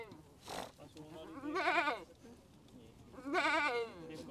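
Two loud goat bleats at a goat market, wavering and nasal, a couple of seconds apart, after a short burst of noise at the start.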